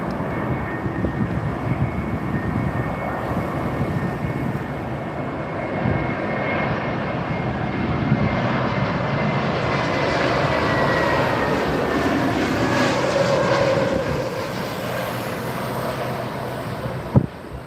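An Austrian Airlines Airbus A320neo lands on runway 27R at London Heathrow, its engines roaring steadily and loudly throughout with some wind noise on the microphone.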